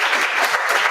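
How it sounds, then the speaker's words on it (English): Audience at a London MLOps meetup clapping, a dense, loud burst of applause from a room of people, heard alone for under a second. "So let's do a round of applause"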